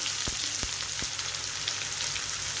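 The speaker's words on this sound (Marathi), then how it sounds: "कांदा परतून घेऊया आपण" Onion sautéing in oil in a pan for a raw jackfruit curry, a steady soft sizzle with a few brief clacks of a stirring spoon against the pan, no voices.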